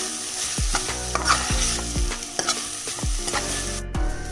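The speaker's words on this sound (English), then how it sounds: "I'm then going to mix this really well and fry this well for another 1 minute." Chicken sausage and capsicum stir-fry in a pan under a bright sizzle, punctuated by a series of regular, resonant scrapes and knocks of a spatula against the metal pan, loud and close with no speech.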